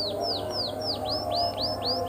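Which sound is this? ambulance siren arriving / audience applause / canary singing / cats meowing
canary singing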